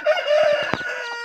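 A broody hen clucking among her newly hatched chicks, loud and close, with a rapid run of low throaty clucks under faint high chick peeps and no talk.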